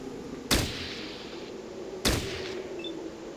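Two sharp gunshots ring out in the Fallout Tactics game, about a second and a half apart, each a loud crack followed by a short decaying tail over a steady low game ambience.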